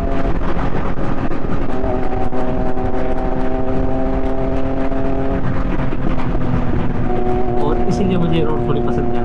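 A Kawasaki Z900 motorcycle cruises along a narrow highway, its engine and exhaust humming steadily with a shifting tone beneath wind noise while someone talks over it.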